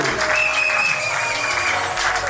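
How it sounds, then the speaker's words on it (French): Guests at a civil wedding applaud the bride, a brief burst of crowd clapping with music or a held tone running underneath. "Sous vos applaudissements, mesdames et messieurs."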